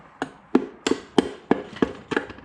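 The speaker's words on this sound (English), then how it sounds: "get, a hammer or some light taps on the timing cover itself" A hammer taps on the timing cover of an Onan B43G engine from a John Deere 318, seven sharp metallic knocks in a steady rhythm about a third of a second apart, close and clear with no talking.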